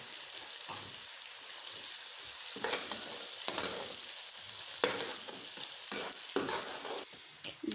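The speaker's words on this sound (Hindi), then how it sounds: "इसको हल्का सा फ्राई करते हैं। अब हम इसमें ये प्याज डालेंगे।" Onions sizzling in hot oil with ginger-garlic paste in a pan, a steady close crackle with occasional stirring scrapes, no talking.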